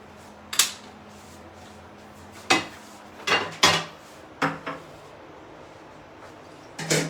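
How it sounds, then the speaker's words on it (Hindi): A frying pan set down on a stove in a home kitchen, heard as a handful of separate metallic clanks and knocks spread irregularly across a few seconds, fairly close and with no talking over them. "मैंने फ्राई पैन रख दिया है"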